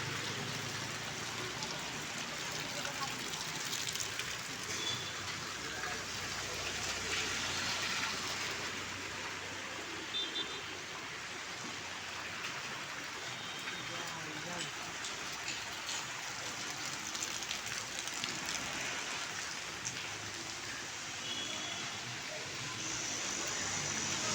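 Steady morning rain falling on a town street in Bhor, Pune district, with shops along the way, a continuous even hiss of rainfall and drops on surfaces throughout, no voices.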